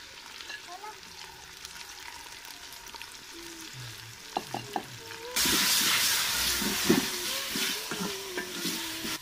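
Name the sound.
tomato, ginger, garlic and green chili masala sizzling with browned onions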